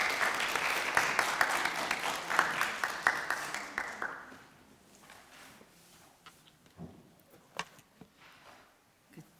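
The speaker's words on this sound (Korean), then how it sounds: "큰 박수로 환영해 주시기 바랍니다." An audience at a Korean care-education lecture welcomes a speaker with brisk applause that fades out after about four seconds, leaving a quiet room with scattered soft knocks and movement.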